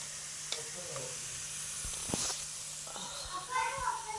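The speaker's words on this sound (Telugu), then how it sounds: "చూడండి, ఇక్కడైతే గోల్డ్ కలర్లో వేగిపోయాయి మనకి" Food sizzling steadily as it fries golden in a pan, with a continuous hiss and a few small crackles and pops over several seconds, fairly close, while a voice talks faintly in the background.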